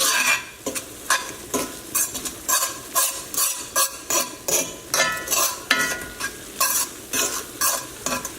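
Grated Parmesan is stirred into a simmering pasta sauce in a pan. Rhythmic, close scraping strokes repeat about twice a second over a soft sizzle, with no talking.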